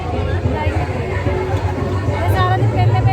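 Dense crowd babble at the Shoolini fair on Thodo ground, a continuous close hubbub of many overlapping voices with no single sound standing out.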